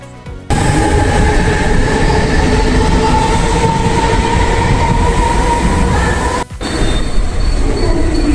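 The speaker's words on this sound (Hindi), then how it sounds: "तिलक नगर से जो है वो ट्रेन ले ली गई है।" Mumbai Harbour Line local train in motion, a steady loud rumble of wheels and carriage with rhythmic rail noise and a faint whine, briefly dipping near the end before continuing.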